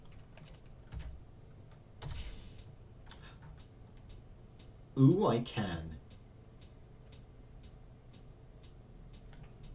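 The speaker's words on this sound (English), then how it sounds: "I like this clicking sound." A mining laser clicks on and off in the video game Space Engineers, a short burst of rapid ticks rising out of quiet background hum, with brief talk nearby.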